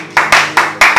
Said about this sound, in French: Acclamons très fort pour le roi des rois